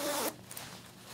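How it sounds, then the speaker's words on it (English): Main zipper of an Icon Slabtown Intercept 93 Limited Edition motorcycle jacket pulled open in one quick, close rasping stroke, followed by quiet. "You zip open the main zip"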